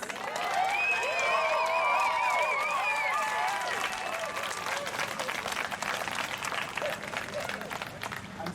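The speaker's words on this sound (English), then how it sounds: "Let's cheer for this wonderful, amazing princess." Crowd cheering and applause at a trans pride march in Melbourne, a dense outdoor roar of clapping with high whoops and shouts on top, loud and sustained throughout.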